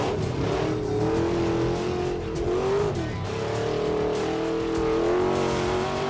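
A car engine screams flat out in first gear, a loud sustained high-rpm drone that wavers slightly in pitch as it holds near the limiter throughout.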